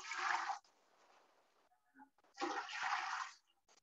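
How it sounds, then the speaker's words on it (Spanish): Water is poured into a cooking pot while making chilacayote tapado, in two splashing bursts of pouring separated by a quieter trickle and a short pause. "Voy a agregar un poquito de agua."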